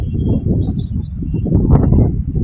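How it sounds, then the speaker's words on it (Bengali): Male pigeons at a home loft give low, close cooing and fluttering sounds in a busy, overlapping cluster, with a few faint higher chirps above. "এগুলো সব নর কবুতর মাশাআল্লাহ"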